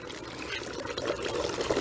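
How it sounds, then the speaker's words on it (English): Water pours from a container into a planting hole in moist garden soil while setting a Culver's root plant, a soft continuous splashing trickle, faint and steady, with a voice talking over it. "let's give it a little bit of water so it gets a really good start. So we'll put little water down there in the hole."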